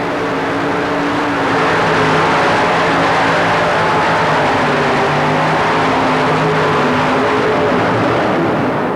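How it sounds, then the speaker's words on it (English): A modified pulling tractor roars loud and sustained through a full pull inside the Houston Astrodome, its engine note holding steady with slowly shifting pitch. "John Powell and the Powell pulling team clearly and easily with a full pull"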